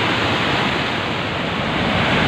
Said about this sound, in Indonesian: sungainya debit airnya sangat tinggi